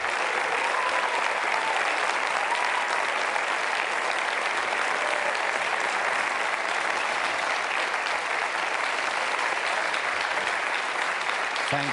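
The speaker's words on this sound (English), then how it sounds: "Please give them a big round of applause." A large audience applauds at a democracy summit, dense continuous clapping filling the hall for about twelve seconds at an even, sustained level with no voices standing out.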